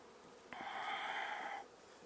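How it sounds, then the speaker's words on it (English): A single honey bee at a side-stacking hive buzzes close by for about a second, a bright steady drone that starts abruptly and fades out. "I got a lot of bees right here"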